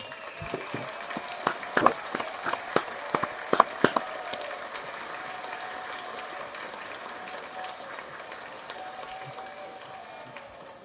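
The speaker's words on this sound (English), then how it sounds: "Round of applause to both of them." Applause from a live audience at a battle rap tournament: a few scattered claps first, then a steady wash of clapping and crowd noise that slowly fades.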